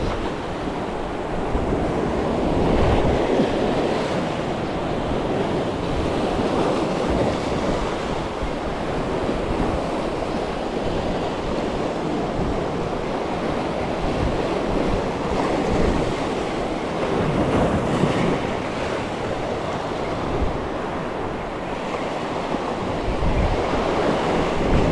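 Ocean surf crashes and rolls onto the shore in a steady, loud wash with gusts of wind buffeting the microphone, and no voices are heard.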